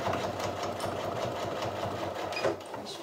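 A sewing machine runs steadily for about three seconds while a banana bag is sewn, and the stitching briefly changes at the end as it reverses into a backstitch.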